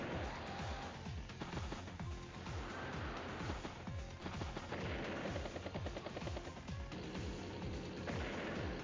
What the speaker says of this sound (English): Submarine gets a good shot onto the battleship.